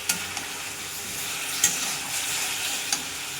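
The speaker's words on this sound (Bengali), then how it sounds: "এবার ভালো করে কষে নেবো।" A spiced mixture, part of a fish curry, is sautéed and stirred in a pan. There is a steady sizzling hiss throughout, broken by a few sharp scrapes and taps from the spoon. No one speaks.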